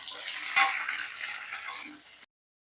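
A pan of green chili, grated ginger and chopped tomato being sautéed and stirred for a meatless fish-style curry, with a steady close sizzle and a sharp spoon knock early, ending abruptly after about two seconds.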